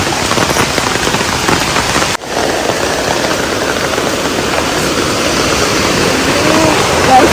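Steady, heavy rain hisses continuously and close by near the Kollur Mookambika temple, a dense wash of sound with a brief dip partway through.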